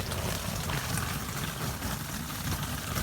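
Heavy rain pouring onto a cheap tent, a dense, even hiss and patter that stays steady throughout with no voices.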